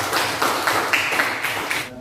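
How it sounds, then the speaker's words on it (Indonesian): Classroom of students clapping together in a quick burst of applause, dense and steady for about two seconds, then cutting off abruptly. "Beri tepuk tangan."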